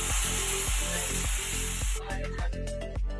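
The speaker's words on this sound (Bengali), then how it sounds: "মাছটা আমার হালকা ভাজা হয়ে গেছে" Small hilsa fish frying lightly in a pan with green chillies, giving a steady, close hiss of sizzling oil over a regular thumping beat that shifts and thins after about two seconds.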